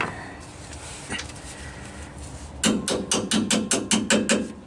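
After a quiet start with a single knock, a hammer strikes metal in a quick, steady run of about ten loud, sharp blows, knocking out a bolt during truck repair.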